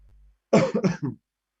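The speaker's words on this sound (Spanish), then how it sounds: "Estoy con un poco de tos" A quick cluster of three or four dry coughs, close and sharp, following a faint low hum and then silence.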